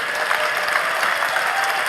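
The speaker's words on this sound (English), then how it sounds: "big round of applause for investors who are actually putting this all together" A crowd at a startup pitch competition final claps loudly and continuously, a dense, even wash of applause with no voices over it.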